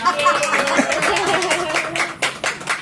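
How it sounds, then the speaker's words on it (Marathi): An audience claps loudly for a grandmother after her song at a Marathi wedding rice-sorting ritual. The applause is a dense, steady patter lasting several seconds, with voices mixed in underneath. "एकदा आजींसाठी जोरदार टाळ्या होऊन जाऊन दे"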